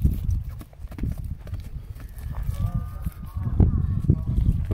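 A horse's hooves clop on the ground in an uneven walking rhythm as the animal is led around, close by, while people talk over it.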